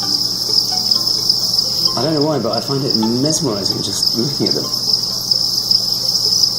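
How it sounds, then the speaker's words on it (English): Tens of thousands of crickets in dense vegetation keep up a constant, high, shrill chirping drone, while someone talks briefly over it near the middle. "Just tens of thousands of crickets."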